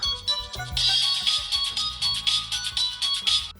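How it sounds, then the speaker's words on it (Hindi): A mobile phone ringtone plays at an office on a Sunday workday, a bright melodic tone repeating steadily for several seconds over a faint background music bed, with no talking. "सबके फोन इतने क्यों बज रहे हैं?"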